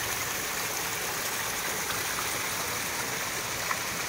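A small stream spilling over a low waterfall near Chimmini dam, a steady, even rush of flowing water throughout with no voices.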